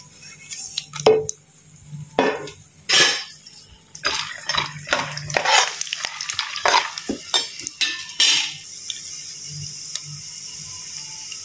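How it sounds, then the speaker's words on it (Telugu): Dried red chillies frying in hot oil in a pan with peanuts, stirred with a spoon that scrapes and clinks against the metal in irregular bursts over a soft sizzle, close by and without talk. "ఆయిల్లో ఫస్ట్ ఎండుమిరపకాయలు వేస్తున్నాను నేను."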